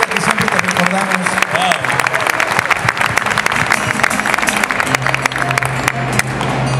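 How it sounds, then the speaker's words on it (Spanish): An audience claps and cheers at a Saint Seiya panel at the Animex 2016 anime convention, with dense, steady applause filling the room while voices and amplified sound carry on underneath. "Más fuerte. Un aplauso."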